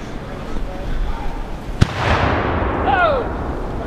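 A musket volley fired by battle reenactors at a Battle of Guilford Courthouse reenactment cracks out once as a single sharp report, followed by rolling outdoor rumble and faint shouts in the background.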